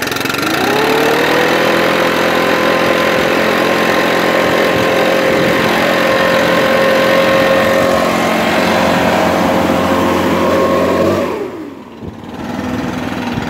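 Stihl BR 700 backpack leaf blower engine rising to a loud steady roar and holding close for several seconds before cutting off abruptly.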